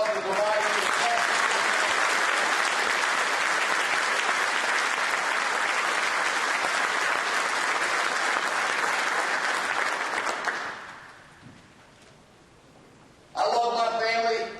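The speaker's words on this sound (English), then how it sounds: "You would give my wife and kids a round of applause for providing me the best." Audience applause at a fire department battalion chief's address, a dense, loud, steady clapping that runs about ten seconds, fades to a quiet lull, then returns briefly near the end with a voice over it.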